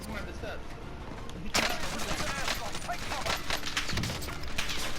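Bursts of gunfire in Call of Duty: Modern Warfare, rapid cracking shots that grow denser partway through and continue to the end, loud and close, with players talking over them.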